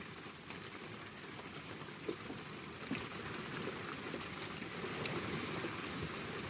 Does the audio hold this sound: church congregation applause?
no